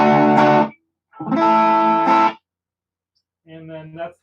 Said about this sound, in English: This is the Dan side, the distortion side